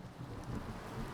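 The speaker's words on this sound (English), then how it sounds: "Ooh, thunder." Rain and a low rumble of thunder in the sailing game Sailwind, a brief quiet stretch of soft, steady storm noise with no talk.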